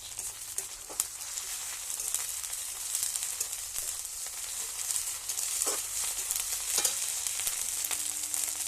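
Ginger garlic paste frying in oil in a pan, a steady close sizzle with occasional stirring scrapes, no voices.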